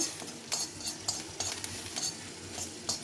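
Cumin seeds dry-roast in a pan while a spoon stirs them, making quiet, regular scraping strokes and light clinks against the metal over a faint crackle.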